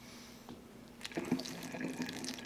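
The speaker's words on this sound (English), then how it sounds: "Pour in more juice." Juice pouring through a funnel into a vessel while making mead, a soft liquid trickle that grows louder and busier midway through, close and with no voices.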